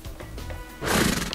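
A horse whinnies loudly and close in the underwater game Tasty Blue, a single rising neigh after a brief muffled lead-in.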